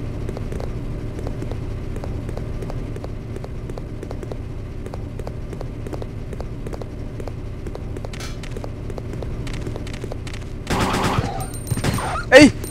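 Gunfire in the PS2 game Resident Evil Code: Veronica: a long run of evenly spaced sharp shots, then a few louder, denser bursts near the end.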